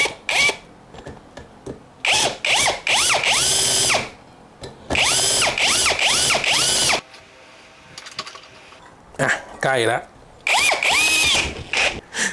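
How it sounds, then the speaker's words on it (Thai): A power drill with a Pumpkin drill bit whirs in several loud bursts, its pitch rising and falling as it bites in, with short pauses and a brief spoken word between runs. "ผมจะพลิกด้านนี้ แล้วเจาะลงไปแทนนะครับ"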